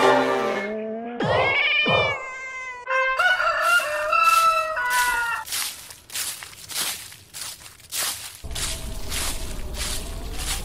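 A rooster crows loudly with long rising and falling calls, alongside meowing and other animal cries from a storybook band of animals, followed by shuffling footsteps and a hissy background.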